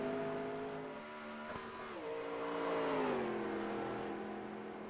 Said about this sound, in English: This young kid can wheel a 1987 stock car.